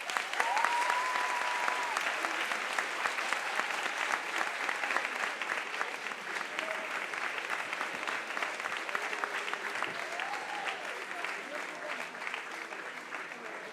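Applause fills a hall at the HEC Paris eloquence contest final as a juror is introduced, sustained crowd clapping for over ten seconds with faint tonal sounds and murmurs beneath, easing slowly toward the end.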